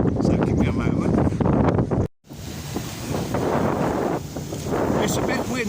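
Blustery seaside wind in Southsea buffets the microphone with loud, steady rumbling roar, briefly cut by a short dropout, then continuing strong and gusty.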